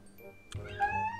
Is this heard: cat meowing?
yes